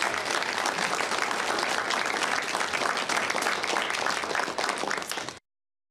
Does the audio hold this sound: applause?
yes